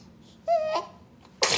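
A single short sneeze bursts out close by, a brief voiced gasp followed by a sharp breathy release, then a second noisy burst of air after a short pause in a quiet room.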